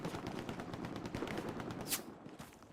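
Steady gunfire from building windows in the shooter Hell Let Loose crackles in quick irregular bursts at moderate distance, with a brief sharp crack near the end.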